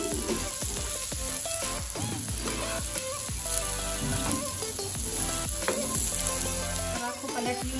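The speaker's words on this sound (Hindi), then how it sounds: "आयल गरम है, इसके कबाब को फ्राई करेंगे" Soybean and chana dal kebabs fry in hot oil, a bright continuous sizzle with crackles and occasional clinks of a utensil, heard up close without talk.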